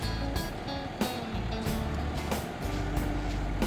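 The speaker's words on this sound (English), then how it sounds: "Karl-Heinz wants to drive the truck with the horse trailer." A truck pulling a horse trailer on a trail-ride trip to Monument Valley rumbles along with a steady low engine drone, broken by periodic rattles and thumps from the rig.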